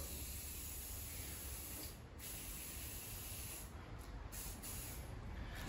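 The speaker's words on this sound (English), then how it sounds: "I'm just going to give all of those chrome surfaces a good spraying with the WD-40" WD-40 aerosol sprayed steadily onto the chrome handlebars of a Victa Turbo Disc lawnmower, a continuous close hiss that runs almost unbroken for several seconds with only brief dips.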